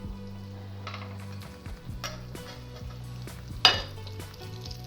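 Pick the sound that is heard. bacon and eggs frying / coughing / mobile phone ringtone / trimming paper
bacon and eggs frying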